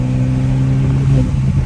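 Tuned stage 2+ BMW F30 car engine revving hard while driving, a loud, close, deep droning growl that holds steady for a brief moment.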